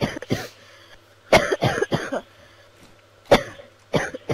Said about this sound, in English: Stop coughing.